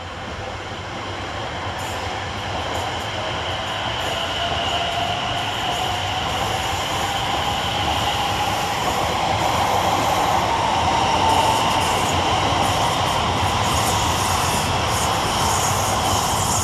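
A Greater Anglia train made up of units 72511 and 72547 pulls away from Stratford station, its engine and rail noise building steadily into a broad, continuous rumble with a rising whine, with no talk over it.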